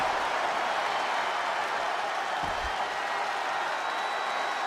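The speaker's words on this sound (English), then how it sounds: "you can't hear yourself think because the crowd's so loud" A loud crowd in the WWE 2K25 wrestling video game roars and applauds in a steady, dense wash of noise that fills the whole stretch without letting up.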